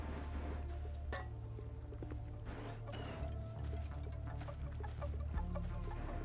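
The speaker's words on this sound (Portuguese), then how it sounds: "Ouvindo só os pardal aí fora." Sparrows outside give short, high, repeated chirps in a game scene, faint and distant over a steady low hum. No one talks.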